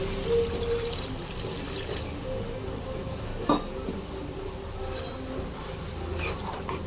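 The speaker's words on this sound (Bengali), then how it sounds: "এবার দিয়ে দেব অল্প জল" A small amount of water splashes and trickles into a pan of jackfruit curry cooking with chili and tomato sauce, soft and close, with a few faint clinks and a brief sharper splash.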